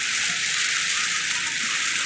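Heavy thunderstorm rain drums steadily on a car while driving in Florida, a dense, loud, continuous hiss with no talking.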